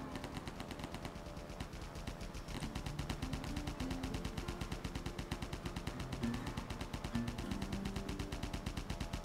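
Steady rapid automatic fire aimed at the player's plane in Airheart, a continuous fast rattle at moderate level lasting throughout.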